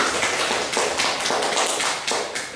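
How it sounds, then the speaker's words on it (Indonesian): Audience applause at the close of an evening lecture on popular culture and religion, a dense burst of close clapping sustained for a couple of seconds at fairly high level. "Kita beri aplaus mungkin kepada beliau."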